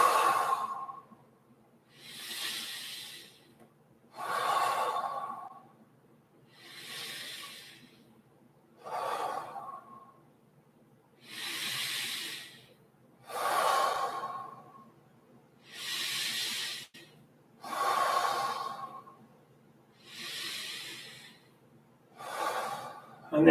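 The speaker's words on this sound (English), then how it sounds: "deep breaths in and out" Slow, deep breaths in and out repeat in an even rhythm during a yoga flow session, about ten close, airy cycles with quiet pauses between them and no talking.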